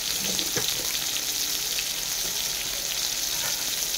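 Pieces of pointed gourd (potol) fry with sugar in a hot pan, giving a steady, close, crackling sizzle with a few louder pops and no talk.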